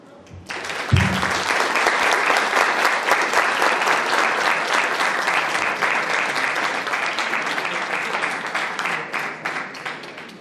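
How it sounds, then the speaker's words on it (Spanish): Sustained applause from a large crowd at a university debate in Lima, dense and steady for about ten seconds, slowly tapering toward the end, with no talking over it. "un aplauso para todos"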